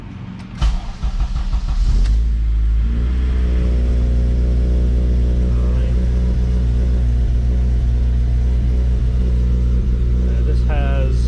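An 8th-gen Honda Civic Si engine with an untuned Skunk2 intake starts with a rough crank and then idles unevenly, a loud, close, throbbing rumble that wavers throughout. A brief voice is heard near the end.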